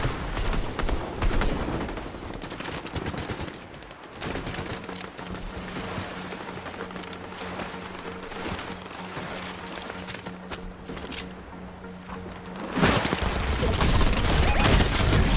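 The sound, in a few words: shotgun fire in a video game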